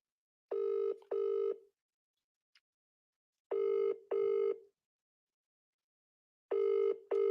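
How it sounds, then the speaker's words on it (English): A UK-style phone ringback tone sounds as an outgoing call waits to connect, with loud double rings repeating evenly about every three seconds against near silence. "Let me ring him."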